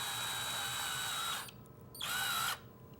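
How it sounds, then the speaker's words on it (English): A cordless drill fitted with a driver attachment whirs in two bursts as it tightens band clamps on an electric drill drum sander build, a long high whine, a short pause, then a shorter run, close and clear. "use a driver attachment in a cordless drill"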